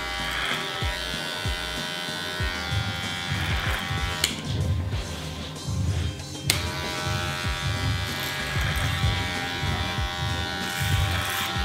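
Electric hair clippers cutting hair using the clipper-over-comb technique give a close, continuous buzzing hum, with rhythmic strokes through the hair and brief comb clicks.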